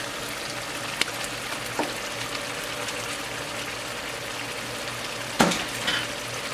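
A sauce with chicken stock and mustard powder stirred in a pan while cooking alongside pangasius fish, a steady sizzling hiss with a few soft scrapes and taps of the utensil, no talking.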